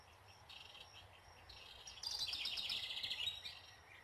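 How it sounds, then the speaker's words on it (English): Several small birds perched along a garden fence near tomato plants chirp and tweet in quick, bright bursts, growing livelier in the second half, with faint insect buzz in the background and no talking. "I love sitting out here watching birds."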